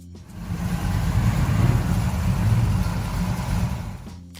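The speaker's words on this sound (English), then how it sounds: "The Pontiac 455 Super Duty V8 is pure power, waiting to explode through tires and asphalt" A Pontiac 455 Super Duty V8 running with a deep, throbbing rumble that swells slightly and holds steady before cutting off, heard alone and up close.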